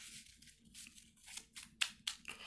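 A Yu-Gi-Oh card deck being shuffled, a run of quiet papery riffles and snaps lasting a couple of seconds, close by with no talking.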